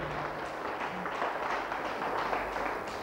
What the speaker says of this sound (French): Applaudissez très fort pour cette communauté.